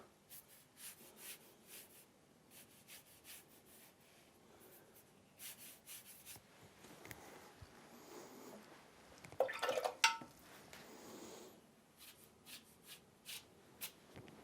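Faint close-up swishing and dripping as a paintbrush is swirled and rinsed in water, in soft intermittent strokes with a slightly busier splashing moment near the middle.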